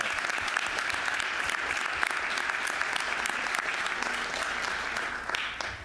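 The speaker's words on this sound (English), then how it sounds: "Let's give Diane another round of applause." A round of applause for Diane at a school board meeting: steady, fairly close clapping from a modest group, crisp individual claps audible within the wash, fading slightly at the end.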